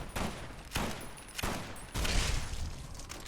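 Hunting shotgun fired in Fallout New Vegas, four heavy blasts in quick succession, each loud, booming and trailing off into the next, with no talk.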